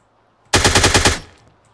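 A rapid burst of automatic gunfire from the video game Miscreated, roughly a dozen loud, close shots fired in quick succession over about half a second, ending with a brief decaying tail.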